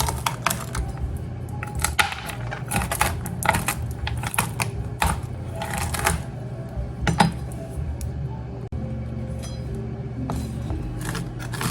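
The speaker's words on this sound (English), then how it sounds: "just chop away until you have all of them coarsely chopped" A knife chops toasted almonds on a cutting board, with rapid, close, sharp tapping strokes in uneven bursts and a loud clicking rattle of nut pieces, easing off toward the end.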